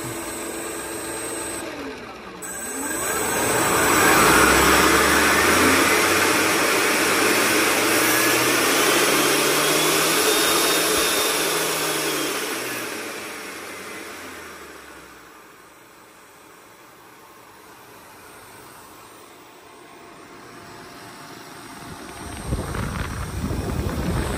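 A 3D-printed electric ducted fan runs near idle with a loud rushing whine whose pitch swells up, holds, then winds down and rises again, close by with no speech.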